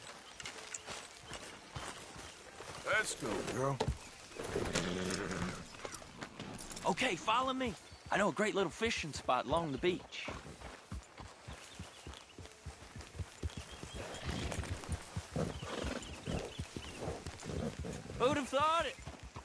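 Horse hooves clip-clop steadily during a ride in Red Dead Redemption 2, rhythmic and fairly close, running under continuous conversation between riders.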